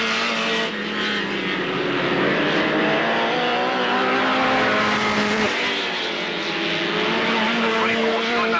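Race cars lapping at Alwalton Raceway in 1983, engines droning loudly and continuously as they pass, with a commentator talking over the noise.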